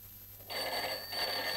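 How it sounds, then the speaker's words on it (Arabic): A telephone bell rings in an indoor scene, a steady metallic trill that starts abruptly and continues with a brief dip, heard at moderate level with no talking. "محدش يرد على التليفون."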